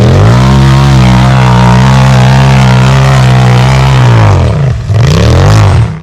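Polaris RZR Pro XP fitted with an RPM Desert Series exhaust, a loud close engine held at a steady high rev, then dropping and blipping back up in a rough, throaty roar.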